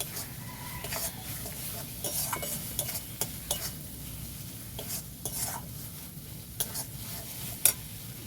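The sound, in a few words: stir-frying chicken with Kashmiri chili powder in a pan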